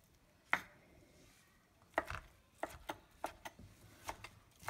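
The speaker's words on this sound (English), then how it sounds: "Just start chopping." Knife chopping ingredients for egg rolls on a cutting board, a sparse series of crisp, close taps at an uneven pace in a quiet kitchen.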